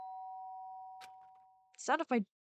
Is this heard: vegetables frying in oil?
no